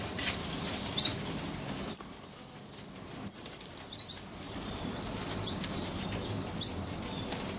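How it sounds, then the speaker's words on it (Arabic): Wild birds in an aviary: scattered high chirps and brief wing flutters over a steady background hiss, with no talking. "هاي المطير حاليا 9 أنواع من الطيور برية، طبعا كلها أزواج"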